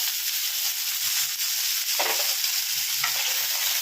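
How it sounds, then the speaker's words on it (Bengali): Potatoes dropped into hot oil for an okra-potato fry give a loud, steady, even hiss, with a few soft stirring strokes beneath it. "এবার আমি তেলের মধ্যে আলুটা ছেড়ে একটু আলুটাকে ভেজে নিচ্ছি"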